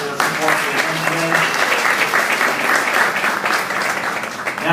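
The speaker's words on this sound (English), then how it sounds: "Let's give them a round of applause for their support for the event" A large audience at an immigrant heritage celebration claps steadily and loudly, a dense continuous applause with faint voices mixed in and no individual speaker.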